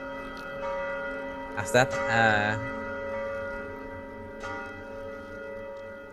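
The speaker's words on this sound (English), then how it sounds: "you guys would hear a bell" A single bell rings out, its bright tone and shimmering harmonics swelling briefly and fading against a steady background drone as a voice speaks faintly.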